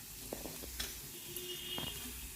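Cumin seeds sizzle in heated oil in a pan for a curry, a faint, steady hiss with soft crackles and no talking.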